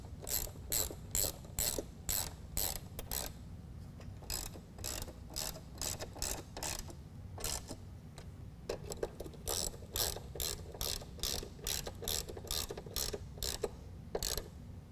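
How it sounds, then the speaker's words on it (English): A ratchet with a 10mm socket tightens the bolts on nerf bar brackets for a 2019 Ram pickup. Close, rapid bursts of clicking repeat again and again, with short pauses between the bursts and no talking. "we're going to tighten all of them down with a 10mm."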